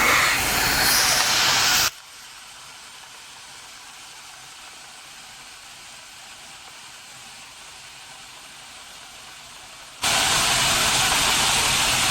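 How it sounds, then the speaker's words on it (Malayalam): A puttu cooker steaming tapioca puttu gives off a steady broadband hiss. The hiss is loud at first, drops to a quieter sustained rush for about eight seconds, then swells back to full strength, with no talking. "പുട്ടിൻ്റെ കുക്കറിൽ നിന്ന് ആവി വരാൻ തുടങ്ങിയിട്ടുണ്ട്"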